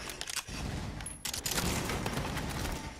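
Rapid gunfire from a World War 2 mode in the virtual reality shooter Pavlov, a dense burst of loud shots filling the whole stretch with only a brief gap, close and harsh.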